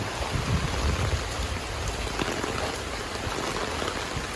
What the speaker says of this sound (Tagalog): Malakas pa rin ang ulan.